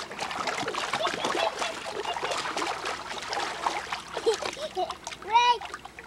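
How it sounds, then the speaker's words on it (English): Water splashes in an indoor wave pool where a small child crawls, with steady broadband slapping and churning through the clip under a child's chatter and an adult voice, ending with a brief squeal. "Splash."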